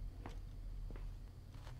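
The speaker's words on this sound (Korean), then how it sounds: "아 지금 발소리가 계속 들려." Footsteps in the horror video game Krampus is Home, three soft thuds spaced about a second apart, faint and close, over a low hum.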